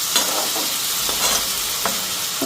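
Green chillies fry in hot oil with a steady, close sizzle, broken by a few scraping stirs of the pan.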